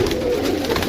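Pigeons kept for sale coo in a brief, close, low throaty burble that holds steadily without talk.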